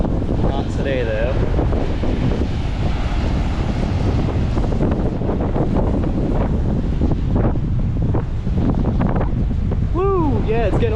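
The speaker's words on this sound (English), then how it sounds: "Yeah, it's getting a little windier." Strong, steady wind from Hurricane Idalia batters the microphone on Flagler Beach along Florida's east coast, a constant loud roar with surf underneath and a voice calling out briefly.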